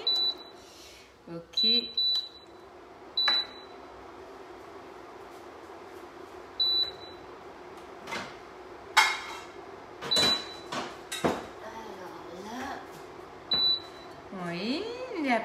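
An induction hob beeps repeatedly at steady intervals while refusing a frying pan, short high tones mixed with clattering pans and cooking noises, and a person talking now and then.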